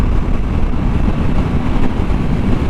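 Steady roaring wind buffets the microphone while riding a 2021 Yamaha MT-09 SP motorcycle on cruise control, a loud, continuous low rush with no distinct engine notes or voices.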